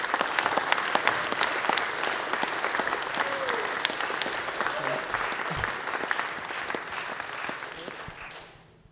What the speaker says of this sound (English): so please clap yourselves